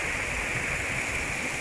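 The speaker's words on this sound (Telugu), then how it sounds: "ఈ వాటర్ సౌండ్కి నేను మాట్లాడేది ఏమి వినిపించకుండా వచ్చి" Water rushing at Surla Waterfalls in Goa, a steady, loud broadband roar that fills the whole stretch without pause, with no voices over it.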